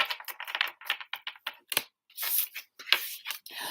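A deck of playing cards being shuffled by hand, with rapid riffling bursts of papery clicks in several quick runs, close and fairly loud, with no talking.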